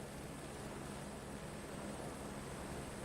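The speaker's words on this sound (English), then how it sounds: "Turn off your helicopter if you want to." A helicopter engine in the Flight Simulator 2024 video game gives a steady, even whine and rumble that holds constant throughout, fairly quiet with no talk over it.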